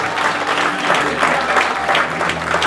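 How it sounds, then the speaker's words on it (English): A church congregation at a Sunday service claps hands in praise to God, a dense, steady wash of clapping that fills the room for the whole stretch, with faint voices mixed underneath. "Would you come and give God a hand clap?"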